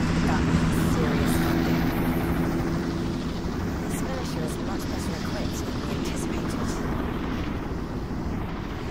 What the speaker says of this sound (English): That's a Drakon class attack helicopter.